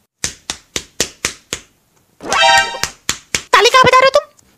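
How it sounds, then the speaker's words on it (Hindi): A run of six sharp hand claps, evenly spaced and close, then a burst of talking and a few more quick claps before another voice cuts in. "ताली कहाँ बजा रहे हो तुम?"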